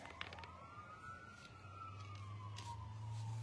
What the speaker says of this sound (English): I hear sirens going by